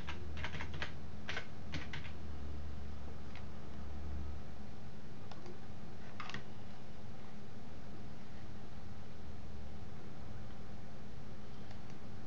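Typing on a computer keyboard while entering a search into a web browser, a few quick bursts of faint key clicks early on, then sparse taps over a low steady hum.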